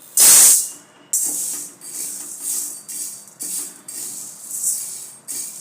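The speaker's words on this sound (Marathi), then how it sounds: "कढाई गरम झाली त्यात मी हे अख्खे मूग टाकते भाजण्यासाठी" Whole green mung beans hit a hot wok with a loud hiss, then settle into a steady sizzle broken by rhythmic scraping pulses as they are stirred and roasted, close up with no talking.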